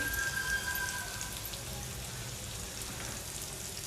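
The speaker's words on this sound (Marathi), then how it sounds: "बारीक गॅसवरती आपण ही फिश भाजून घ्यायची" Pieces of pomfret fish laid on garlic frying in hot oil in a pan over a low flame, giving a soft, steady crackling sizzle that is faint and continuous, with no voices.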